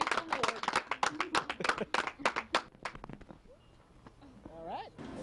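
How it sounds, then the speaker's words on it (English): A studio audience claps in a quick burst at a haunted-house attraction news segment, the applause broken and overlapped by excited voices and a whoop near the end. "Everybody that put it together needs an applause."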